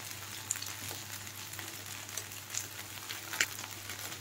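Corn methi kebabs frying in oil, a soft continuous sizzle with a few faint pops and light clinks, quiet and steady with no speech.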